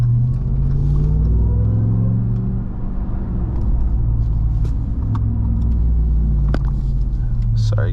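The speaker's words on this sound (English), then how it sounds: "Those downshifts just sounds so fantastic." Engine of a RAM 1500 TRX pickup truck rumbling low and loud from inside the cab, revs rising and dropping through downshifts, with faint clicks over the steady drone.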